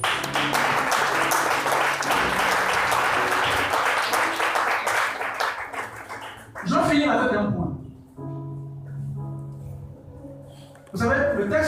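A church congregation bursts into loud, sustained applause and cheering for several seconds, then it fades out and a voice speaks over a hall-like echo, with a brief burst of clapping at the end.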